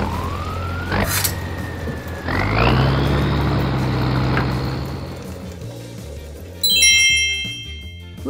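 Toy recycling truck's electronic effects: a rising whirring tone and siren-like wail, a burst of rumbling mechanical noise, then a bright chiming jingle near the end, loud and close with no talking.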